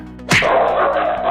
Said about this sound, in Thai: เดินเพียงเพราะเสียงหมาเห่าไหม